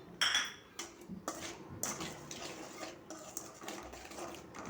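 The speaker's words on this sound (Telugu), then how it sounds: "నేను అదే మూకుడులో నూనె ఉందా, అదే మూకుడులో కలిపేసి తీసిద్దామని అలా కలుపుతున్నాను" Amla pickle mixed in a metal pan off the heat, with a spoon scraping and clinking against the metal in irregular strokes, close and fairly quiet.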